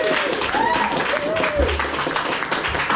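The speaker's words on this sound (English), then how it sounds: "Could you applause for our saxophone player, Jen, please?" A live audience at a small music event applauds a saxophone player, scattered clapping running throughout, with a voice speaking over the applause.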